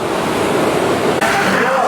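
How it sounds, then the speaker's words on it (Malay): Ocean surf washes steadily onto a beach at Sedili as the tide comes in, a loud continuous rush of breaking waves with wind noise across the microphone. "ombak punya pukul semakin menghampiri kita"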